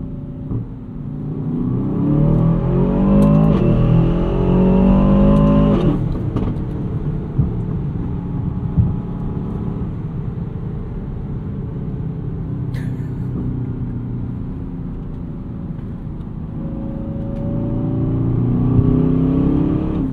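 2024 Aston Martin DBX 707 with an AMG-sourced 697 hp engine accelerates in Sport Plus mode, a deep throaty rumble building, easing off, then rising again, heard from inside the car.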